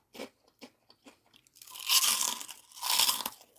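Crispy homemade sabudana potato papad, made from sago and potato, crunches loudly and close up as it is broken and bitten, a few light crackles building into dense, sustained crunching.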